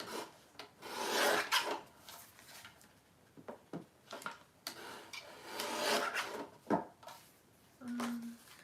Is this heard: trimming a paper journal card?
yes